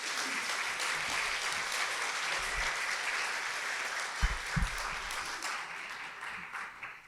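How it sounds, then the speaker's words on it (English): Steady applause from an audience at a seniors' honors event, a soft, continuous wash of clapping with a couple of low thumps partway through. "Let's give them a round of applause."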